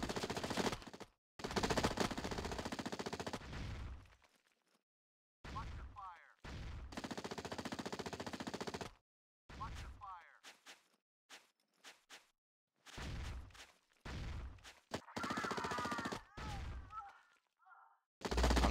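Multiplayer gunfire in the PC game Rainbow Six Rogue Spear: repeated bursts of automatic fire separated by silent gaps, fairly loud, with occasional shorter shots and some voice chatter nearby.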